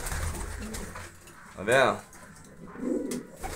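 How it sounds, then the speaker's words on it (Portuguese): Pigeons coo in a pigeon loft among older birds, including an aging white one, with soft low coos near the end and a brief higher call in the middle, while someone speaks briefly nearby. "Um dos pombos mais velhos do pombal que eu tô tendo aqui no momento, bem decadente mesmo, é esse branco aí"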